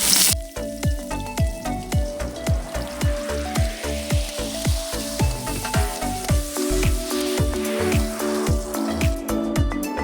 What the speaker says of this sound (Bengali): তেলটা গরম হয়ে গেছে, প্রথমে দিয়ে দিব পেঁয়াজ কুচি